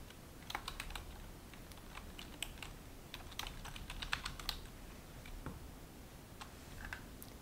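Light typing on a computer keyboard, heard as scattered quiet key clicks in short irregular runs over steady low room hiss, with no voices.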